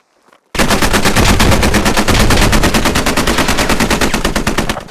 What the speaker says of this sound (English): this is a live fire exercise